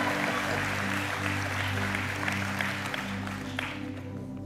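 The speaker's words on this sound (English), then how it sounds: "Give Kevin a round of applause," Church congregation applauding a member named Kevin during a sermon service: a moderate, continuous wash of clapping from a roomful of people, somewhat distant, with a low hum beneath, tapering slightly toward the end.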